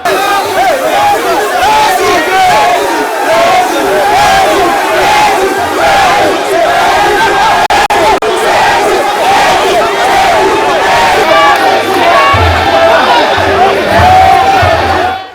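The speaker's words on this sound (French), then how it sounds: "foule compacte et enthousiaste l'a chaleureusement ovationné" Dense, enthusiastic crowd along a presidential motorcade route in Guinea, loud continuous shouting and chanting in waves, close and overwhelming throughout.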